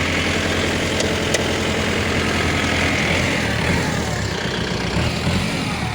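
A Kubota L5018 tractor engine runs at high throttle, a steady, dense, close mechanical drone with no change in pitch, while work noise blends in faintly.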